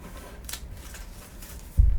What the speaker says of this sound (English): for the next step, fold this side diagonally